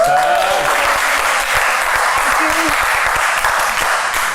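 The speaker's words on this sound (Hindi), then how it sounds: "ताली पहले की बजा दी, अभी बात खत्म नहीं हुई है।" A studio audience on a television game show breaks into loud applause, a dense burst of many hands clapping close up that holds steady, with a voice briefly heard over it.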